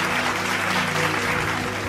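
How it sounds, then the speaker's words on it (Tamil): A church congregation clapping hands during a Tamil sermon, a dense, continuous patter of many palms at steady loudness across the short span, with no talk on top. "கைத்தட்டுங்க ஒருத்தவருக்கு"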